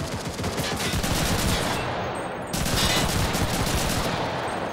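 Rapid automatic gunfire from a weapon in the World War II shooter Enlisted, set in Normandy, a loud continuous rattling burst of shots with a brief dip midway before firing resumes.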